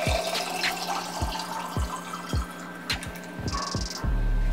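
Water runs into a glass or jar for a chia seed drink, a steady close trickle with small regular drips, ending in a fuller filling rush.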